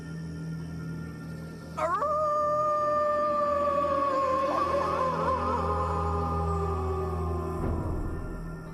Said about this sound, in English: walks outside and begins howling towards the moon